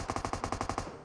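Rapid automatic gunfire in a shooter video game, around nine evenly spaced shots in a fast burst that stops abruptly, loud and close with no voices over it.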